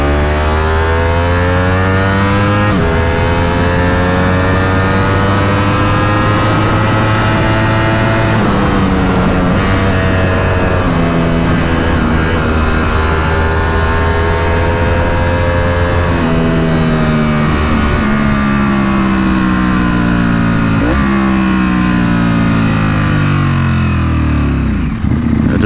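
A 2021 Ducati Superleggera V4 motorcycle engine roars loudly and continuously during a ride, its tone rising and falling through repeated revs, gear changes and deceleration with engine braking, close and alone without talk.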